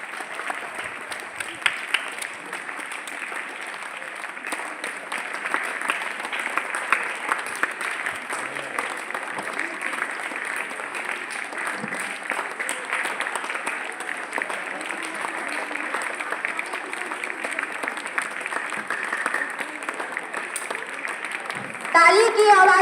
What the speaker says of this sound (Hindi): ताली की आवाज रुकनी नहीं चाहिए।